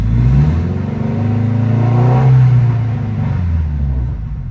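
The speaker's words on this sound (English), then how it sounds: "I'm going to give it a little gas." A 2003 Honda S2000 engine is given a little gas, revving up and easing back in a steady, close mechanical drone with no voices.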